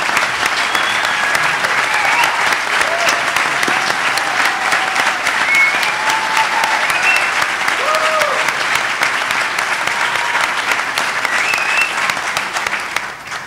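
Loud, sustained applause from a large audience fills the whole stretch, with scattered whistles and cheers mixed into the clapping.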